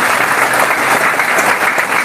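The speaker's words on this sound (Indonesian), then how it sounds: "tepuk tangan buat para ketua madrasah" At a religious gathering, a large crowd applauds the madrasah heads, dense and loud clapping that fills the hall at an even level throughout the brief burst.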